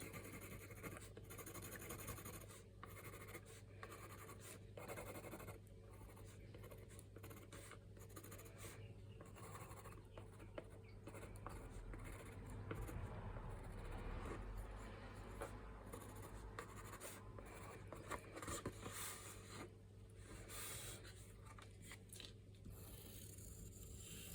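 Art materials scratching and rubbing across paper or card in continuous, steady strokes, a dry scraping texture that carries on throughout with a constant low hum underneath.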